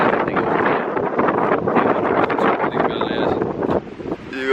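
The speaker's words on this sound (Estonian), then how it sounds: "nii kõva tuul on." Strong wind buffets the microphone continuously outdoors near water, a loud rumbling roar that fills the whole stretch without pause.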